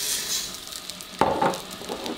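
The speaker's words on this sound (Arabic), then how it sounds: "هنا غادي نحاول انني نضيف الارز" Rice goes into a pan of hot melted butter with vermicelli, a soft sizzle that jumps with a sudden pour and rustle midway, then settles into gentle frying and stirring, close and without talk.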